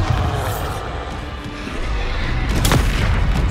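Bombarda exploding spell in Hogwarts Legacy, a heavy booming blast with a bright crack near the end, set against a dense, rumbling combat soundscape.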